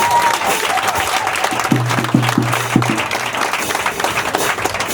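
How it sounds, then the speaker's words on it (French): Crowd applause and cheering rise at an outdoor evangelism gathering in Neka, a dense wash of clapping that holds loud and steady for the full span, with a low pulsing tone briefly underneath. "acclamez Jésus-Christ de Nazareth"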